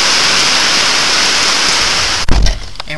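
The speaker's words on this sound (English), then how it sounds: "Listen to it. Come on, you hear that? It's raining." Steady rain patters on a parked car, heard from inside as a dense, even hiss that runs loud and constant, then breaks into rustling handling noise near the end.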